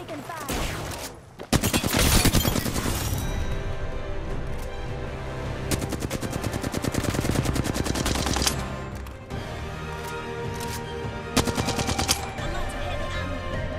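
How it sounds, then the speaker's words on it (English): Sustained automatic gunfire from the Apex Legends video game, with dense rapid bursts nearly throughout, loud and close, with brief pauses between volleys and a few heavier impacts. "I'm spotted, taking fire."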